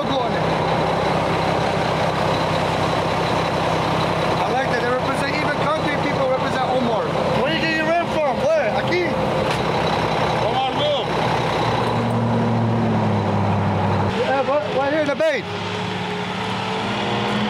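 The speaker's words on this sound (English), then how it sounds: "Even the concrete truck have my logo on it." Concrete truck engine rumbles steadily at a construction site, with intermittent reversing beeps and clanks, under people talking nearby.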